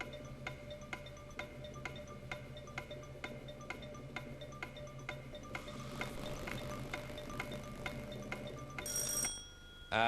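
The Countdown game show clock ticks evenly during the 2003 conundrum round, then a bright bell rings briefly near the end before the ticking cuts off.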